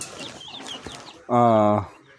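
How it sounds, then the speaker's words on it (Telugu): A breeder rooster of the Chilakamuku chicken breed gives one loud, harmonic crowing call lasting about half a second, preceded by faint background chatter and softer clucking. "మనం ఈరోజు అయితే ఒక మంచి బ్రీడర్ పుంజుని అయితే తీసుకొని రావడం అయితే జరిగింది"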